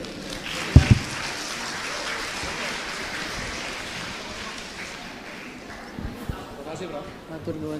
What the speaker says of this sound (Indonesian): boleh kita berikan tepuk tangan sekali lagi untuk pembicara para panelis